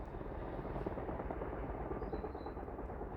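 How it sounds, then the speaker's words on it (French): Helicopters flying behind a building, heard as a steady, muffled rotor drone that holds throughout at moderate distance, with no talk. "il y a des hélicos qui font des balais depuis ce matin, là, derrière"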